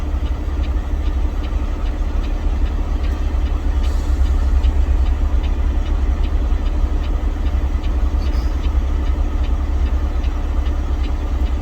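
A semi truck's diesel engine idles continuously close by, a constant deep, low rumble with a faint rhythmic ticking and no talking.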